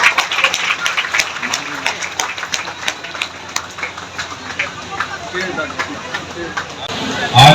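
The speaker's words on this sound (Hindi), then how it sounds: "तालियों की जोरदार गड़गड़ाहट होती रहनी चाहिए।" Audience applause at a public outreach meeting in Madhubani honoring the district police superintendent, steady crowd clapping with sharp individual claps throughout, rising louder at the very end.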